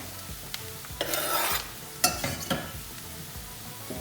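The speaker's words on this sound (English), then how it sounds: "just stir that around the pan for a few minutes" Garlic and softened onions stirred around a frying pan give a soft steady sizzle broken by a few louder scraping bursts from the spoon, close up and with no voices.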